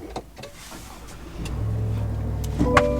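A 2024 GMC Sierra AT4X pickup engine cranks via push-button start and settles into a steady, close idle after a few brief clicks, with a slight rev bump near the end.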